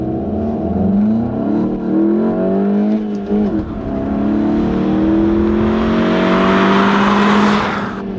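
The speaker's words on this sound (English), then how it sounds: "So here we go for a 0 to 60 run in the Mark 7 Golf with manual transmission." Manual Volkswagen Golf GTI Mk7 launching hard from a standstill to 60 mph: a loud engine roar that climbs in pitch, dips briefly at a gear change, then rises again to a strained high rev, heard from inside the car.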